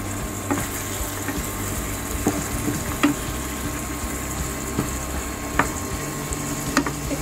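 Cannelloni in béchamel sauce cooking in a pan, giving a steady low sizzle and bubbling with a few soft clinks and stirring taps scattered through, close and moderately loud with no talk.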